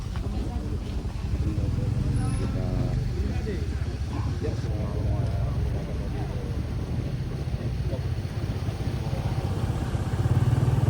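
Traffic jam on a road near the Tapanuli Selatan border area with idling and creeping motorcycles and cars, a steady low engine rumble and wind buffeting, while people talk over it throughout.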